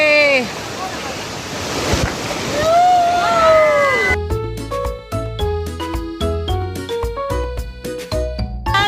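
At the Palasdari waterfall, rushing water and wind buffeting the microphone fill the first half while people shout and call out. Music then takes over for the rest.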